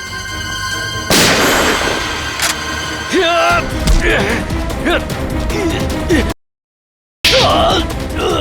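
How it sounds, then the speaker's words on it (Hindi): Gunfire in a tense police drama confrontation: a sharp, loud blast followed by a booming crash and echoing rumble, with voices speaking around it and a brief gap of silence before more commotion. "गोली चलाएगा तुम? चला गोली।"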